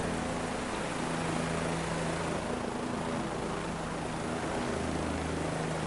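Helicopter in Microsoft Flight Simulator 2024 flying high up, a steady broadband rotor and engine roar with a low droning hum, constant and loud throughout with no talking.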